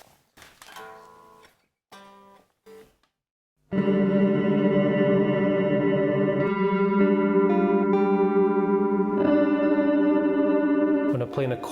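Guitar chord run through an Instruo Arbhar granular module, sustained shimmering layered tones with smeared, slowly shifting grains after a few short plucked notes, dense and continuous to the end.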